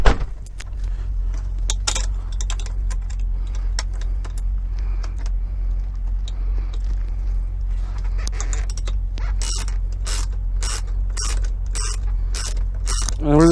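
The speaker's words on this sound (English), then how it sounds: "we're just gonna go ahead and use our socket that we've got right here" A ratchet socket wrench tightens bolts on a load scale, giving a low mechanical drone with scattered clicks and bursts of rapid ratcheting that grow dense toward the end, close by and with no voices.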